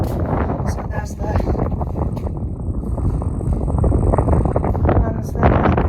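Strong wind buffets the microphone outdoors at a building site in Ghana, a constant loud rumbling roar with gusts that swell toward the end.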